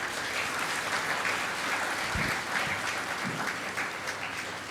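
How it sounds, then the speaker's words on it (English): Sustained applause from an audience at an entrepreneurship conclave, a dense, even patter of clapping that fills the room from start to finish with no speech over it. "please give him a big round of applause."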